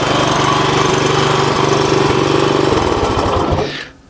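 A 1983 Honda 200X three-wheeler engine idles loudly up close with a steady rattling putter, idle turned up, then cuts off abruptly near the end, leaving quiet.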